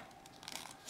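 A sheet of paper is folded in half for a mini brag book craft, making a soft, brief crinkling rustle that is faint and close, with no talking.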